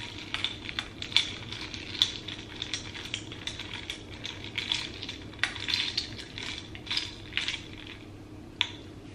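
A small metal bar spoon stirring a lemon drink in a glass, producing light clinks and taps against the sides at irregular intervals, faint and close, with quiet room background.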